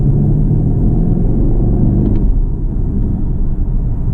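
A 2020 BMW 750i xDrive M Sport, a big heavy sedan, rolls along a twisty airport road course, its engine giving a steady low rumble with road noise, close and continuous, easing slightly toward the end.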